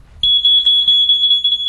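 A smoke detector starts after a brief pause and sounds one loud, continuous piercing tone, very close, with no voices.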